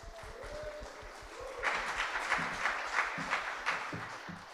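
An audience at a live launch event for The Road To Nashville breaks into applause and cheering, dense overlapping claps swelling partway through and carrying on steadily, heard from within the crowd in a large space.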